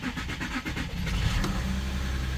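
A 3-litre Audi Q7 engine cranks briefly and catches, settling into a steady close idle that continues to the end.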